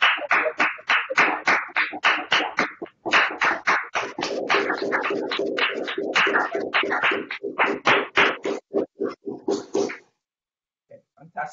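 Several people on an unmuted video call clap for the winning team at a competition finals, giving a dense run of sharp close claps that thins into scattered single claps before stopping.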